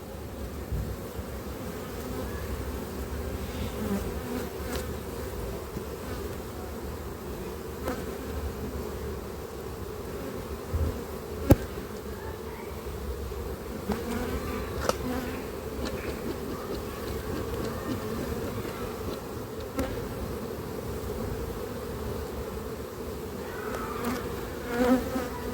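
Honeybees in a beehive give a steady, close, continuous buzzing drone with small clicks and bumps scattered through it.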